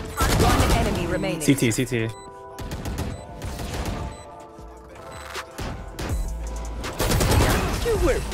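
Bulldog rifle fire in the Valorant video game on the Pearl map, with loud bursts of shots crackling through a busy firefight as players call out over the gunfire.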